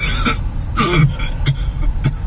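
A few sharp coughs in a row, close and fairly loud, with short pauses between them against a low background hum.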